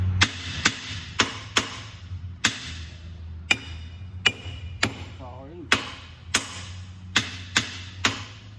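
A hammer strikes a stuck pin on the C-frame of a Cat D5K dozer, about a dozen sharp metallic blows in a steady, close rhythm over a low engine hum.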